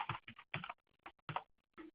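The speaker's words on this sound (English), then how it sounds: "Apologize if you can hear the typing." Quick close keystrokes on a computer keyboard, clustered bursts of typing separated by short pauses, fairly quiet with no speech.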